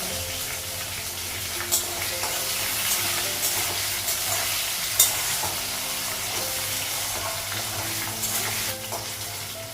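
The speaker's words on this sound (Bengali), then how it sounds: "চালটা ভাজা হয়ে গেছে মশলাগুলো ভাজা" Rice and spices frying in a pan give off a steady close sizzle, with occasional stirring scrapes and a few sharp clinks, and no one talking.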